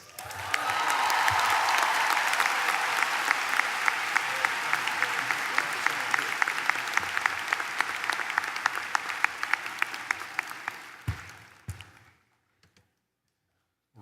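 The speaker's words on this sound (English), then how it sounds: "Won't you join me in another round of warm applause for Ray Gilley?" Warm, sustained applause from a large commencement audience at a UCF ceremony, steady dense clapping for about eleven seconds before tapering off into near silence, with a few scattered claps at the end.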